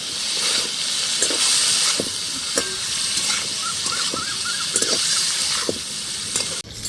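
Potato and poppy seed curry with drumstick stems, chilli paste and salt is sautéed in a pan: a steady sizzling hiss, broken by repeated scraping stirs, with a sharp clatter just before the end.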